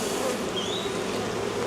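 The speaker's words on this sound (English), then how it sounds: "Bee with lots of pollen on it." Honeybees buzz in a dense, continuous drone close by during a hive brood inspection, with an occasional single bee passing nearer and no talk.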